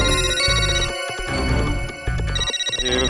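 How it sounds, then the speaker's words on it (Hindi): A mobile phone rings with a loud, repeating melodic ringtone that keeps playing without pause. "ये आगा का फोन है।"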